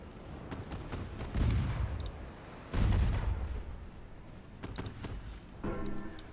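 Warship guns in a naval video game fire on a cruiser: two heavy booming salvos with rumbling tails, then a sharper crack and mechanical whir near the end, loud and close with no talking.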